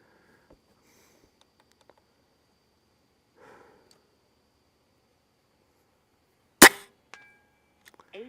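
An airgun fires at a target on a live shooting range at an airgun expo, a single sharp, loud crack standing out against near silence, with faint small clicks and handling noises around it.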